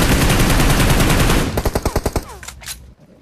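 Automatic gunfire from a competitive mobile battle royale shooter: a dense, loud stream of rapid shots for about a second and a half, then separate punchy bursts and single cracks spaced out before stopping.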